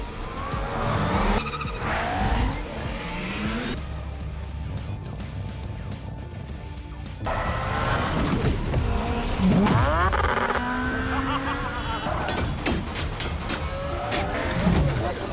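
Cars race and skid through a chase, with repeated sharp tire squeals and surging engine roars coming in bursts, a quieter stretch in the middle, then renewed screeching and revving near and loud.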